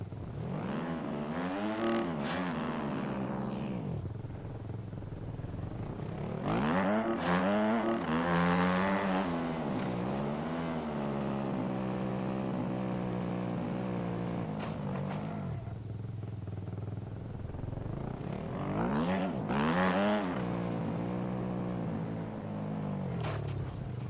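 A supermoto motorcycle in a PC racing game revs up and accelerates repeatedly, the engine whine climbing in pitch, dropping and climbing again in surges, with quieter idling stretches between the runs.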